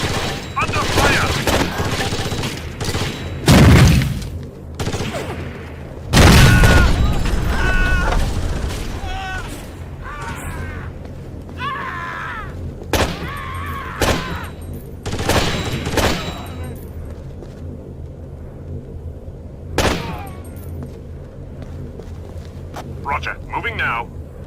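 Gunfire bursts and booms ring out in the Rainbow Six 3 Black Arrow tactical shooter, loud volleys and scattered shots across the stretch with radio voices calling out over the combat.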